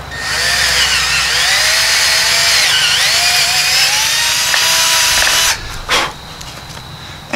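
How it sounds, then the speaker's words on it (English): A power drill drilling holes in tent stakes whines loudly and steadily, its pitch dipping under load as it bores, then cuts out near the end with a brief final burst. "And drill your holes."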